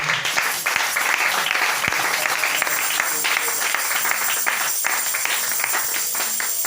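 A church congregation claps and applauds in praise, a dense, steady wash of many hands lasting the whole stretch at close range with no talk over it.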